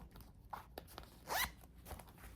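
A zipper on the back pocket of a Coach wallet is pulled open in one quick rasping run, close and fairly faint, with a few small clicks and handling sounds around it.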